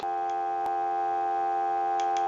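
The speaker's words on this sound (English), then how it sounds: "So we know we have dial tone." A steady telephone dial tone plays from a Disney animated Mickey Mouse telephone under repair, a constant, even hum with a couple of faint clicks over it.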